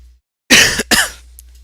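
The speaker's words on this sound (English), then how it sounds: "Cough on the mic." A single close, loud cough right on a microphone, two sharp bursts in quick succession with a brief gap, then quiet.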